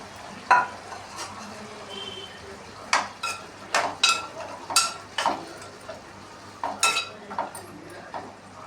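Tomatoes frying in a pan of drumstick curry, with scattered sharp clinks and scrapes of a spoon stirring in uneven bursts over a low, steady sizzle.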